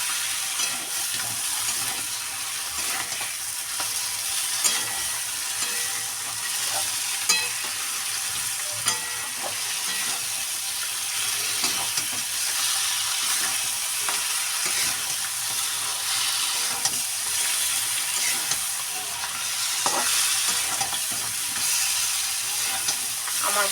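Prawn heads frying hard in a pan over a high gas flame: a dense, steady, close sizzle carries on at even loudness, punctuated by frequent small ladle scrapes and taps, with no speech.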